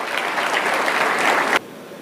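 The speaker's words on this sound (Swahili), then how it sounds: "Na tuwapige makofi" A crowd at a school fundraising gathering claps in a loud, even burst for about a second and a half, then the sound cuts off abruptly to quiet.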